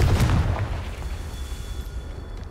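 A booming explosion from the Confringo spell in Hogwarts Legacy hits hard at the start, then decays into a lingering low rumble with a faint ringing tone.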